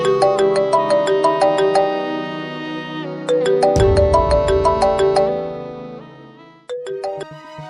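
A phone ringtone plays a bright, repeating electronic melody, loud and close, cutting off briefly and restarting near the end.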